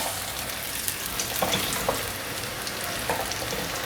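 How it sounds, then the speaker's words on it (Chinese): Eggplant and bamboo shoots frying in a pan, a steady close sizzle with a few light scraping and stirring clicks, no talking. "先让它煎定型，等下再来翻面。"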